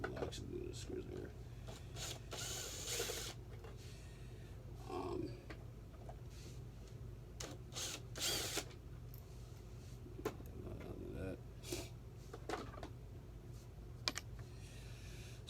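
Screws are being removed from a Hoover WindTunnel U64xx/U66xx self-propelled upright vacuum during a motor replacement, giving close, irregular clicks, rattles and scraping bursts over a faint low hum, with someone talking quietly in between.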